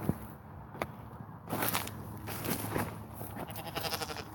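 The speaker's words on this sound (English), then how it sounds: "Get attacked by the goats as we go through here." Goats bleat in short, scattered calls over shuffling footsteps and rustling outdoors, moderately close.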